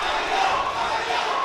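A crowd roars steadily behind the local Sri Lankan fighter Kavindu during a fight event, a dense, sustained wash of cheering and shouting at moderate distance.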